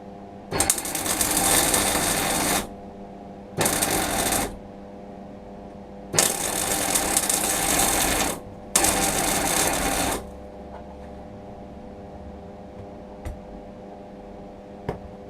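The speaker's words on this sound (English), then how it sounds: "carry on with the welding now." Welding on a part for a Honda Express NC50 moped: four bursts of loud, broadband crackling arc noise, each lasting one to two seconds with short pauses between, over a steady low hum, then quiet afterward.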